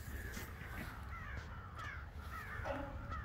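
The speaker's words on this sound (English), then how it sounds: "Which are crows or ravens or grackles or whatever" Several crows or ravens cawing in a series of harsh, repeated calls, fairly close, over a steady low outdoor rumble with no talk.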